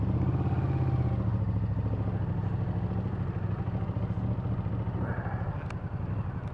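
A motorcycle engine runs steadily on E10 fuel, a close, continuous low throb with rapid firing pulses and some mechanical clatter, holding level for several seconds before easing slightly near the end.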